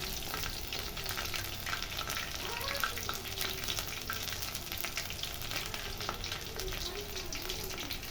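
Leftover gram flour batter fries crisp in hot oil with an even, close bubbling sizzle. The sound is low and continuous, with faint background tones and no clear talk.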